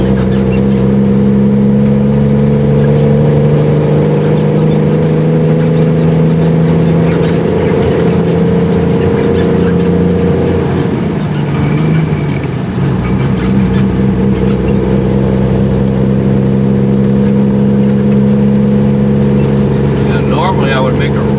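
A loaded super dump truck accelerates on a highway in traffic, its engine droning loudly from inside the cab with a rising then shifting tone, steady and sustained, while someone talks over it.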